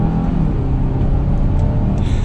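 A 2021 Kia Sorento SX Prestige turbo SUV accelerating hard from second gear in manual mode, a steady loud interior engine drone and road rumble held throughout the short burst.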